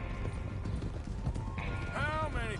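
Horse hooves clop in a quick rhythm in a Red Dead Redemption 2 scene, quiet and close under game sound, with a horse whinny rising near the end.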